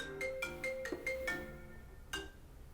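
A phone ringtone plays a bright melodic series of short electronic tones, then pauses and sounds one more tone, in a quiet room with no talking.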